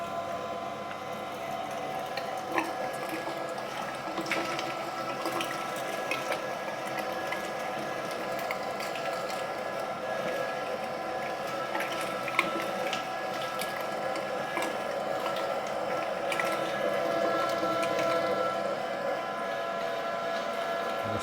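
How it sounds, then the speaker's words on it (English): A meat grinder grinds pork fat for traditional cabanossi with a continuous loud mechanical whir, steady motor hum and faint ratcheting clicks throughout, no voices. "So let's grind the fat."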